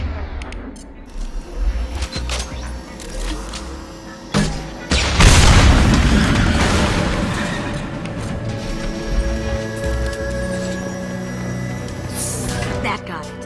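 Tank explosions in the video game Mass Effect 2: a few deep booms and blasts among gunfire, the loudest burst roaring up then fading into a long rumbling tail, with game voices talking over parts of it.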